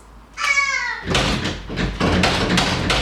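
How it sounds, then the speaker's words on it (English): A child bangs on a door, a series of loud, uneven thumps and rattles close by, preceded by a short high-pitched vocal cry. "don't bang on the door"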